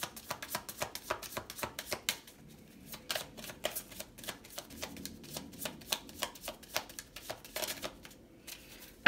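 Tarot cards being shuffled and drawn by hand for a pick-a-card reading, soft quick riffling and slapping clicks in an irregular stream, faint and close, with no talking.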